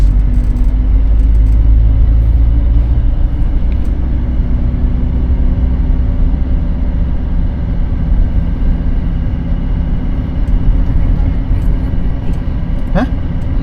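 A car driving on the road from Surabaya to Malang: a steady, loud low engine and road rumble runs throughout, with a brief higher whine near the end.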